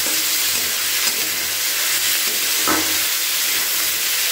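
Loitta dried fish fries in a pan while being stirred, a loud, dense, unbroken sizzle close by, with occasional soft scrapes of the spatula.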